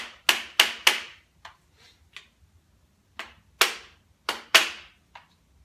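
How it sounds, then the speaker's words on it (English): A rare earth magnet is tapped loose from an engine part during a 408 Cleveland engine teardown, giving sharp metallic knocks in quick bursts of two or three, some faint, others crisp and close, with no speech. "They're a rare earth magnet. Kind of just got to tap them a little."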